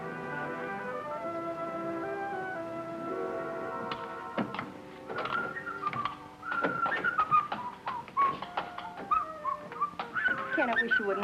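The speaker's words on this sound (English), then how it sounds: "I wish you wouldn't whistle in the house" A man whistles a tune indoors in a house kitchen, a thin melodic line of steady notes that grows more lively and warbling partway through, close and clear, with a voice speaking earlier.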